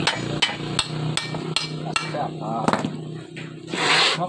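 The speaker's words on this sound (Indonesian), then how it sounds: "Oke, kita lanjut tinggal palu-palu" Hammer striking a stuck motorcycle kickstand axle in a repair shop, about eight sharp metallic blows at an uneven pace, with someone talking between hits.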